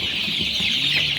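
Saso chickens on a farm housing about 2,500 birds, a dense chorus of many hens clucking and chattering together at close range.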